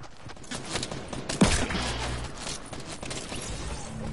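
Gunfire in a PS4 shooter game, one sharp loud shot standing out amid a dense, busy mix of game effects and rumble.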